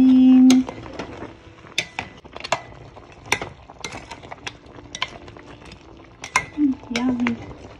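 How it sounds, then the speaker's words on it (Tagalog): Pork neck bone sinigang stirred in a pot, with scattered clinks and scrapes of a utensil against the metal rim, irregular and close, over a low simmering background. "Haluin."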